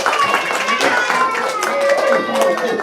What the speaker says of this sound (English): Give Miss Robin a big round of applause.